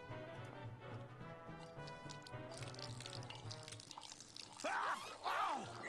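Coffee poured over a character's head in the Grim Fandango video game, a watery splashing and dripping pour that swells near the end over a steady game music bed.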